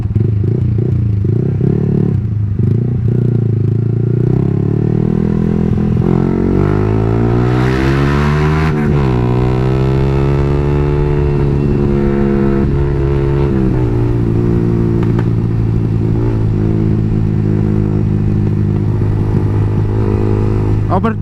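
Yamaha R15v3 motorcycle fitted with a Maruti 14/50 sprocket, engine revving loud and close as it engine-brakes with falling pitch, then accelerates again with rising harmonic sweeps; a voice speaks at times over the engine.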